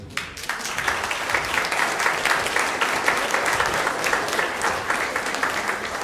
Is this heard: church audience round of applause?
yes